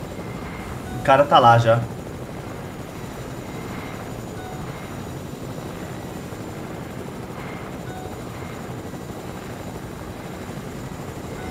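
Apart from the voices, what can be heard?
helicopter flying in video game Fortnite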